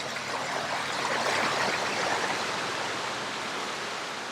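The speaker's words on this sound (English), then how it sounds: "Fake waterfall, just for like an entrance to a subdivision." An artificial waterfall at a subdivision entrance pours in a steady, hissing rush, close and continuous, with no voices over it.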